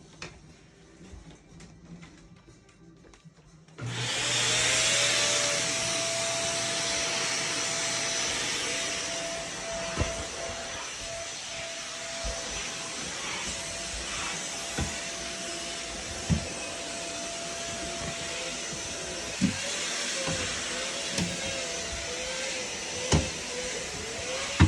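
A vacuum cleaner runs steadily on a mattress, switching on after a few seconds of quiet and then droning loudly and evenly, with occasional clicks and bumps as the nozzle moves.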